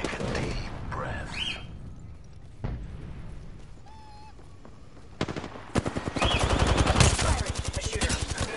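Bursts of automatic gunfire and shots from a PS4 shooter game, dense rapid volleys building loud near the end after quieter game sounds and distant pops.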